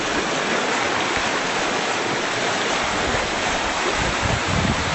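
A creek flows along its widening channel, giving a continuous broad rushing wash of water that holds steady and fairly loud, with nothing else over it.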